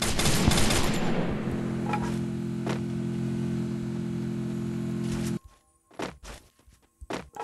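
Rapid bursts of gunfire from the video game Free Fire, with steady dense firing and thuds for about five seconds, then a few separate louder shots and footsteps after a brief quiet gap.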